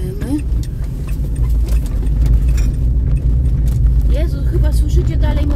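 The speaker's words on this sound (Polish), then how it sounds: "chyba słyszycie dalej moje słoiki z tyłu" Light glassy clinks and rattles jostle over a steady car engine hum, with talking voices throughout.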